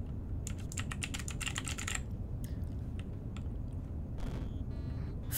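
Computer keyboard keys are pressed to steer a 1989-styled game, with a quick burst of clicky taps, then scattered single presses and a short flurry near the end, close and fairly quiet over a low background hum.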